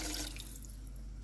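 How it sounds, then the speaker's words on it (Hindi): Water pours steadily into a cooking pot of rice for Asian pulao, a continuous close splashing rush with no voices. "अब इनमें मैं पानी डाल रही हूँ"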